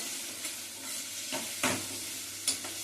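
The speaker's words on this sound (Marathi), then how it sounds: "आता पुन्हा गॅस चालू करणार आहे आणि हे छान परतून घ्यायचे," Pieces of chopped amla (Indian gooseberry) being stirred and sautéed in a pan over a gas flame, with a steady low sizzle and a few scraping stir strokes spaced a second or so apart.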